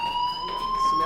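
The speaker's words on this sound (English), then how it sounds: "do you hear that fire alarm?" A school fire alarm in the video game Life is Strange rings with a steady, loud electronic tone and its higher overtones, continuing unbroken while a voice talks over it.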